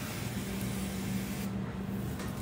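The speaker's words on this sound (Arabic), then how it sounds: "ممكن تستخدمي بخاخ الزبدة، أنا هستخدم" Butter spray hisses steadily onto meat for Omani qabuli rice, a continuous close spray over a low hum with no talk.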